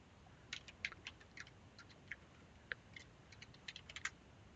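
Someone types on a computer keyboard, entering text in a banking application: quiet, irregular clusters of sharp key clicks close to the microphone over low background hiss.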